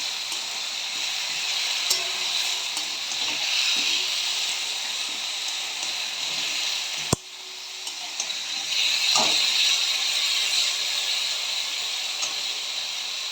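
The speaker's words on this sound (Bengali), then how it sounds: "তরকারিটা ভাজা হচ্ছে, এই সময়তে আমি টমেটোটা দিয়ে দেব।" Prawn and pumpkin curry with potato sizzles steadily in a frying pan, a continuous close hiss of oil broken by one sharp clack of a stirring spoon partway through, with no voices.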